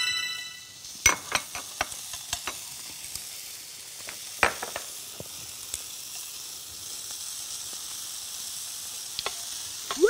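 Bacon frying in a pan for a Korean bacon-and-egg rice bowl gives a steady close hiss, broken by scattered sharp pops and crackles of spitting fat. No one speaks.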